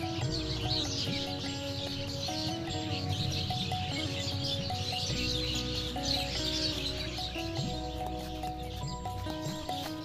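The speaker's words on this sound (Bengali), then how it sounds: "চারদিকে পাখির কলকাকলির শব্দ শোনাচ্ছে" Birds chirp and call continuously across the midday countryside of Thakurgaon under an overcast sky, a steady layered chorus with no voices.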